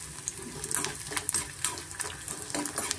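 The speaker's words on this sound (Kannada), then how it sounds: "ಅದನ್ನು ನಾವು ಸ್ವಲ್ಪ ತುಪ್ಪದಲ್ಲಿ ಫ್ರೈ ಮಾಡ್ಕೊಬೇಕಾಗತ್ತೆ" Dry fruits frying in ghee over a medium flame for a laddu, a soft, quiet sizzle with light stirring clicks and crackles, close and faint, without speech.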